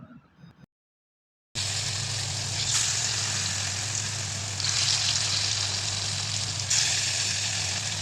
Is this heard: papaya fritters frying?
yes